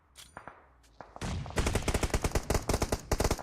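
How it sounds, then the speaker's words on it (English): Rapid gunshots in the battle royale game BGMI during an esports grand final, starting with a few scattered shots and then a loud, steady automatic burst of evenly spaced cracks. "Some good shots being fired."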